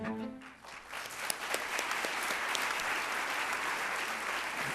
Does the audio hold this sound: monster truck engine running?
no